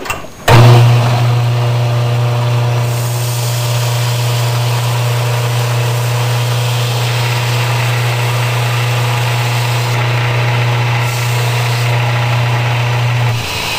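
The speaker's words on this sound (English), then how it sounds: "I have a belt sander over here. I will turn that on." A belt sander switches on about half a second in and runs for over ten seconds as a loud, steady motor hum with a bright whine, undercutting the leading edge of a wooden boomerang wing. No one speaks.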